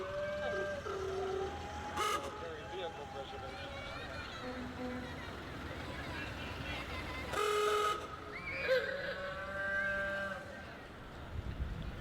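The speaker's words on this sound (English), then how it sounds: "Let me hear your horns," Antique car horns from a horseless carriage club honk at a Veterans' Day parade in Wichita, several distinct toots and blasts, one low and cow-like, sounding over crowd noise and nearby talk.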